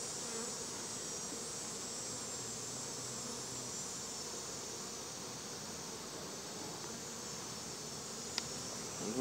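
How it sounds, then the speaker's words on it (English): Honey bees buzz steadily around the frames of a nuc being moved into a 10-frame box during a goldenrod honey flow, a dense, even drone that holds throughout with no talking. "as the rest of the bees bring in that goldenrod honey and make those frames heavy"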